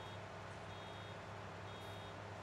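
Steady, regular reversing beeps from a vehicle in the factory-building game Satisfactory, repeating in an even rhythm over constant engine and machinery hum, with no talk.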